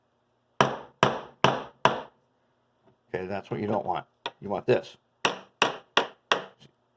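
Hammer blows strike an anvil set on a 4x4 hard point: four sharp, evenly spaced ringing strikes, then someone talks, then a second run of four crisp strikes close to the microphone.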